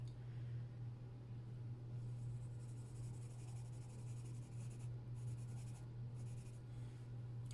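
Colored pencil working across paper in an adult coloring book: a soft, steady scratchy shading rustle, close and faint, continuing throughout over a low electrical hum.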